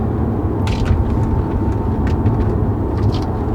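A Mercedes CLS pulls away from a corner, giving a steady, loud low engine and road rumble with faint higher whine above it, continuous throughout.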